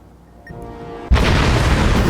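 A bomb explodes in a party video game, a sudden loud close boom that follows a short quiet buildup of faint tones and continues as a sustained rumbling blast.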